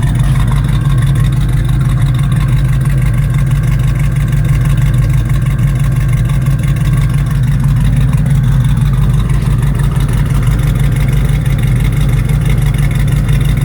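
A 1978 Pontiac Trans Am V8 idles, a steady, loud, deep rumble with an even throb that holds close and continuous for the whole stretch.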